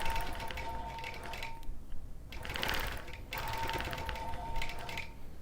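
A long-arm quilting machine stitches an edge-to-edge quilt, running in steady rapid bursts of mechanical clatter with brief pauses between runs, close and clear with no talk.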